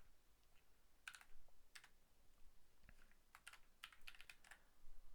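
Quiet, close typing on a computer keyboard while writing Python code, irregular bursts of crisp key clicks with short pauses between them.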